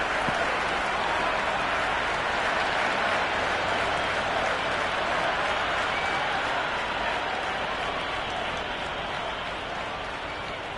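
A big stadium crowd roars and applauds steadily after a huge six in the cricket video game Cricket 26, a dense, sustained wall of cheering and clapping that stays loud throughout and eases slightly near the end.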